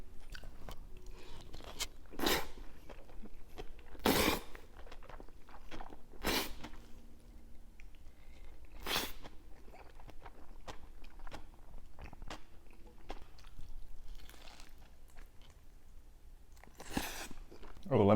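Jjajangmyeon noodles and sweet and sour pork being eaten up close, with sharp crunchy bites scattered through the clip and softer chewing between them, under faint talk.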